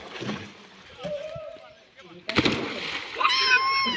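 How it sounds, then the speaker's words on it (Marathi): A person jumps into deep well water during a midday swim, landing with one loud splash that follows lighter earlier splashing, while voices chatter and laugh around the well. "बघा आता कशी उडी खाते"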